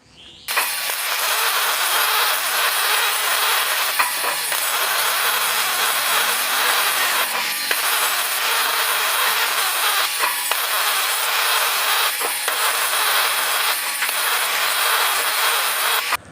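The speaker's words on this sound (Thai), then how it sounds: "เรามีการเชื่อมพอกแล้วก็มีการเจียเข้ารูปนะครับ" An angle grinder shapes the built-up weld on a screw flight from a charcoal briquette press, giving a loud, continuous abrasive screech of metal grinding with brief dips and bursts as the disc shifts on the workpiece.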